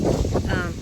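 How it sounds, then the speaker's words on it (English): Strong wind roars and buffets the microphone in a steady, broadband rush in a garden, with no clear voice on top. "It is extremely windy, like I told y'all."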